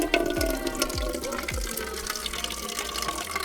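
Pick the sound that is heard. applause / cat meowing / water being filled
water being filled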